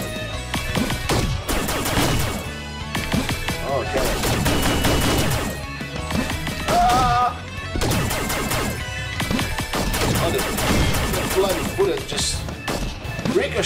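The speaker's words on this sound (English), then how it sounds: "ricochet" Dense game combat audio with rapid gunfire-like bursts and sharp impacts, including a bullet ricochet, running loud and continuous under a player's commentary in the Navyblue and the Spectrum Killers video game.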